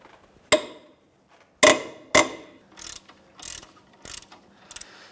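A ratchet with a 17mm socket removes the caliper bracket bolts on a 2011-2016 Hyundai Elantra during front brake work, making several separate bursts of sharp clicking close up, with quiet pauses between and no talking.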